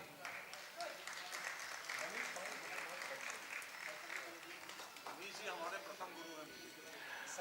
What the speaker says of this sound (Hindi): जोरदार तालियां मनीष जी के लिए।